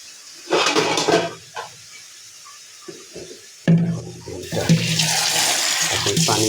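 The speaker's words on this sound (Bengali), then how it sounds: "এখন পানি দিয়ে মাংসটা কষাই দিব।" Water poured into a pan of cooking pigeon meat sets off loud rushing hisses in two bursts, the second sustained and steaming, with some clinks of the pan and no talking.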